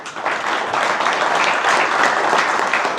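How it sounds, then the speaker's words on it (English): Sustained applause from members at a Strokers club meeting, a dense, steady wash of many hands clapping that fills the room evenly throughout. "Mike deserves a round of applause"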